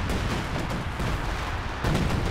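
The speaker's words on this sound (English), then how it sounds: "Massive artillery strike coming down here." An artillery strike lands in a Company of Heroes 2 match as dense, rumbling booms and crackling blasts that roll continuously, with a heavier impact near the end.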